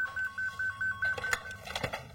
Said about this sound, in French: le téléphone d'Ariane Chemin n'en finit pas de sonner